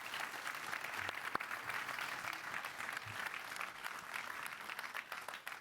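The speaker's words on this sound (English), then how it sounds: "And this is your applause." Audience applause at a conference stage, a steady wash of many hands clapping at moderate distance, fairly faint and continuous throughout.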